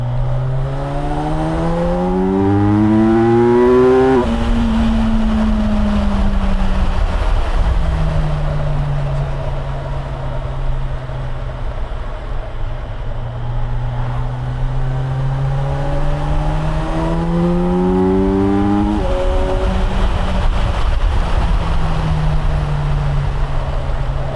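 A 2025 Kawasaki Versys 1100 motorcycle accelerating, engine pitch climbing through two rising sweeps with a gear change between them, steady and fairly close with no talking.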